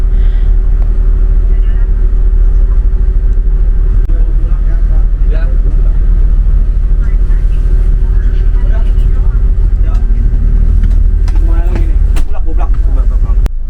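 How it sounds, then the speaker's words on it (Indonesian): A loud, steady low engine rumble from an AgraMas bus pulling out of a terminal, heard from inside the cabin, with faint voices and rattles over the drone. "Jam 12:50 bis akhirnya diberangkatkan dari Terminal Barendang Siang"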